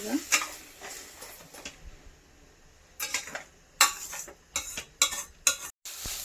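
Six beaten eggs for egg bhurji stirred in a pan, with repeated scraping and clinking of a spatula against metal over a soft sizzle, coming in short bursts.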